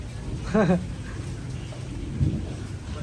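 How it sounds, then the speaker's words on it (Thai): Heavy rain pouring at night during a storm in Luang Prabang, Laos: a dense, steady roar of downpour throughout, with brief vocal sounds from a person nearby partway through. "โอ้ยฝนตก"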